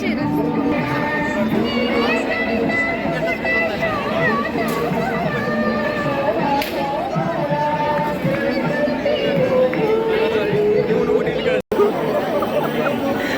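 A dense crowd packs a Ganpati festival in Pune, a constant close babble of many voices and movement with people talking nearby throughout.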